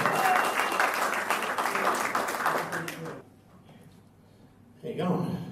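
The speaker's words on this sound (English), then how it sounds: "Everyone applause." A stand-up comedy audience applauds loudly to welcome a comedian to the stage, a dense burst of clapping that stops abruptly, followed by a short lull and then more noise.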